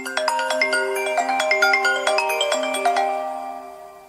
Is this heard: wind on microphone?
no